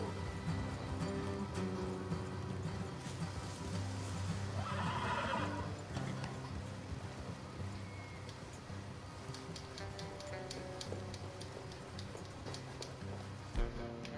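A horse neighs once in Red Dead Redemption 2, a rising whinny over a steady layer of ambient game sound and faint hoofbeats; no talking.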